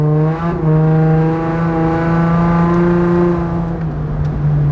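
An Infiniti G35 coasts along in neutral, its engine note a smooth, steady hum with a slight dip in pitch near the end, heard from inside the car with no talking.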